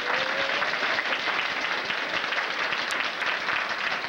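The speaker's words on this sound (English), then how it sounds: "if you please stand up and we'll give you a big round of applause" A room of attendees applauds as people from out of state stand up, a moderate, continuous patter of clapping that holds steady from start to finish, with a faint voice briefly audible early on.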